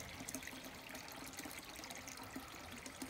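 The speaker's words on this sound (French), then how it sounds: "Vous entendez le bruit de l'eau?" Water from a natural spring flows in a steady, close trickle with a bright, continuous splashing texture and no voices over it.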